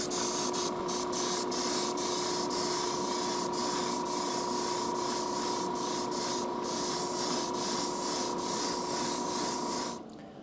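Aerosol spray paint laying down a gloss black coat: a continuous close hiss with brief pulses, steady for about ten seconds before cutting off.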